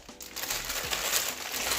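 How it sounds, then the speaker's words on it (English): A plastic zip-top bag holding a teriyaki marinade of honey, brown sugar and rice wine vinegar is sealed and squeezed, giving a continuous close crinkling and crushing rustle. "Seal that zip top bag"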